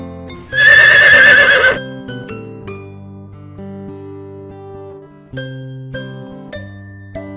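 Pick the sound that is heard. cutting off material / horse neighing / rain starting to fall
horse neighing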